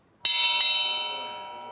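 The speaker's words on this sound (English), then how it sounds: "Can I ring the bell and you chant?" A bell is struck once, close and clear, and rings with a bright metallic tone that slowly fades. Its ring sounds alone.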